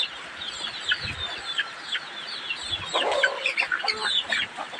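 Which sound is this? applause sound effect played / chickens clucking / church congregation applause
chickens clucking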